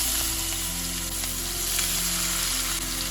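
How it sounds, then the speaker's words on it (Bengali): Chopped onions and green chillies sizzle in hot oil and butter in a pan, a steady close crackle over a low hum, with no talk. "এবার পেঁয়াজ আর কাঁচা লঙ্কাটাকে হালকা লাল লাল করে আমি ভেজে নেব।"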